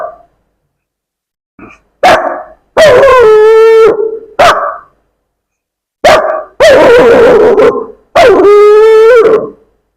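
A voice imitates a local stray dog, giving short yelps followed by long, wavering howls in three close, loud bursts separated by brief silences.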